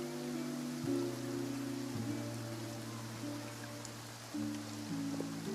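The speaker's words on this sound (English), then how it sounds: "Looks like rain." Rain falling in Genshin Impact, a soft steady hiss of drops spread across the sound, faint and continuous beneath sustained background music chords.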